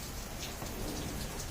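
Monsoon rain falling outdoors, a dense steady hiss of drops on wet surfaces, continuous and fairly soft, with no voices.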